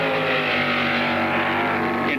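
Race cars roaring at the 1967 Rex Mays 300, a loud sustained engine drone with a rising pass near the end, under a faint background of track ambience.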